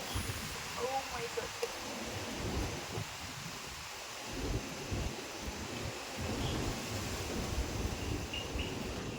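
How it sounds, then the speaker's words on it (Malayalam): A strong wind roars and gusts outdoors at night, a steady broadband rush with swelling surges buffeting the microphone. "നല്ല കാറ്റ്"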